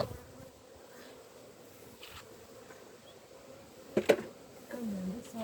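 Honey bees buzz faintly around an open beehive being fed syrup, a low steady hum in the background with a couple of brief louder knocks and handling sounds.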